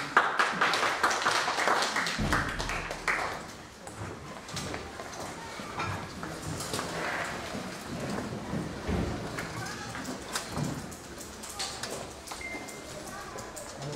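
A crowd at a Korean poetry recitation contest claps steadily, loud at first, then thinning and continuing in a softer patter that lasts several seconds.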